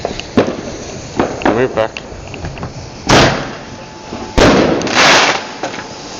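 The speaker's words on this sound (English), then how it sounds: "Fireworks." Bonfire night fireworks bang and crackle in several sharp bursts, some close and loud, with a cluster of pops near the end, while people talk nearby.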